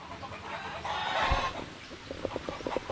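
Hen clucking in short, repeated bursts at close range in a poultry pen, with a louder low thump midway and faint ambient farmyard background.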